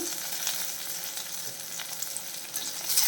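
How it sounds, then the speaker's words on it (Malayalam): Curry leaves sizzle and crackle in hot oil over a medium flame, a steady close frying hiss with occasional stirring, part of an easy bachelor-style curry. "ഇതിൻ്റെ കൂടെ കുറച്ച് കറിവേപ്പിലയും കൂടെ ഇട്ട് കൊടുക്കുന്നേ"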